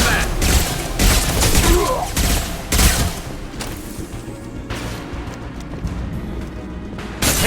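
Dense combat gunfire in Mass Effect 2, with bursts of shots and heavy impacts crowding together through the first half and then thinning into a steady rumble, loud and close.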